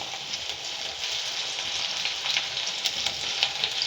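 Garlic and onion sizzle steadily in hot oil in a pan, a dense close crackle with occasional stirring scrapes and no talking.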